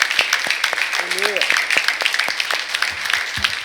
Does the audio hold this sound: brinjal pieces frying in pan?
no